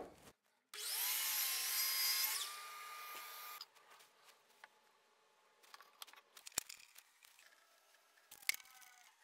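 A power saw cuts a walnut scrap block in half in one loud, steady pass of nearly three seconds, then stops, leaving quiet workshop handling and light clicks and knocks.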